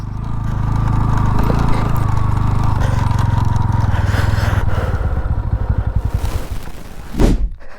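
A motorcycle engine labours loud and close while climbing a steep off-road hill track, its throb steady at first, then breaking into uneven pulses and thumps near the end.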